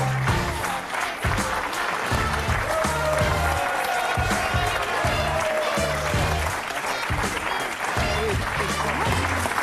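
A studio audience applauding on a television set, a dense and sustained clapping that rises and holds, with rhythmic pulses and music or voices mixed beneath it.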